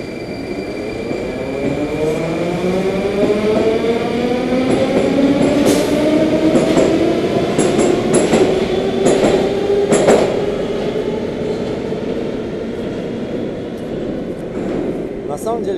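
A metro train pulls through Taganskaya station on the circle line at rush hour, with rising and falling motor whine, rumbling wheels and squeals, while a person talks over it.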